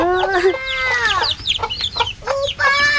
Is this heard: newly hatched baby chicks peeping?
yes